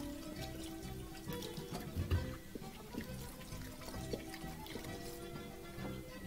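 Potatoes rinsed under running kitchen tap water give a faint, continuous splash and trickle with small irregular clatters of handling.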